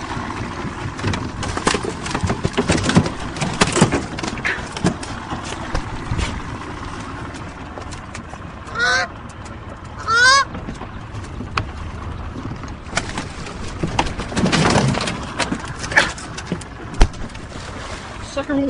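A goose attacking a dog honks in short harsh bursts amid a noisy, chaotic scene with shouting and scuffling, the honks loud and close.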